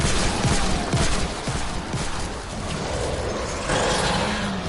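Gunfire from the Fortnite video game, a dense continuous rattle of shots and noisy action filling the whole stretch at steady loudness, with no one talking.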